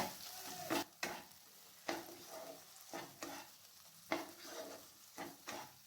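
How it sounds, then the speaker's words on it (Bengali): Kasuri methi and chopped tomato stirred in a pan on the stove, a spoon scraping through the mixture in repeated strokes over a soft sizzle, close and fairly quiet with no talking. "টমেটো কুচির সঙ্গে কাসুরি মেথিটাকে ভালো করে মিশিয়ে নিয়েছি।"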